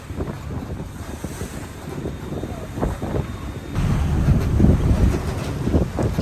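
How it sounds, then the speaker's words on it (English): Strong wind buffets a sailboat at sea, a loud rough rush of gusts and microphone buffeting that grows heavier partway through, with water and boat noise underneath. "Winds kicked up quite a bit."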